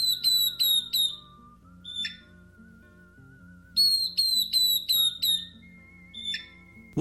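A northern beardless tyrannulet sings clear, loud whistled phrases, each series of rapid descending notes capped by a sharp chirp, repeated in two bouts with short pauses between, close and alone.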